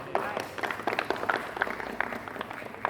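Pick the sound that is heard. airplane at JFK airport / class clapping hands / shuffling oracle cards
class clapping hands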